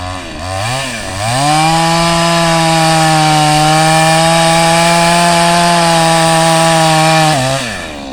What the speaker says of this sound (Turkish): Kurumuş ağaçları kesiyor badem, kuruyan bademleri.